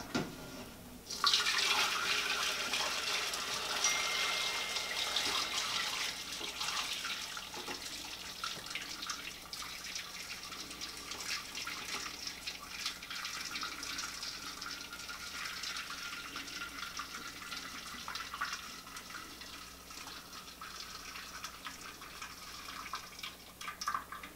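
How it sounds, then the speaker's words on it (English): Boiled cochineal dye liquid pours through a cheesecloth-lined strainer in a continuous close splashing gush that stays steady for over twenty seconds, easing slightly toward the end, with no voices. "I've let the cochineal boil for 30 minutes and now it's ready to strain."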